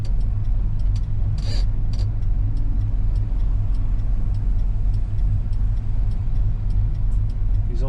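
A 1960 Dodge Dart's old engine idles a little low, giving a steady, even rumble up close with faint ticking over it and no talking.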